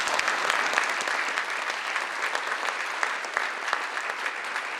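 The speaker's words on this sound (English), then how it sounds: "please give another round of applause for Brad." An audience at a National Hunger and Homelessness Week storytelling event gives a warm round of applause, dense steady clapping at moderate volume with no speech over it.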